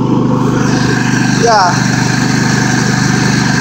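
A Craftsman ProSeries garden tractor engine drones steadily while driving with the mower deck raised, a loud close mid-pitched hum throughout, with someone speaking briefly over it.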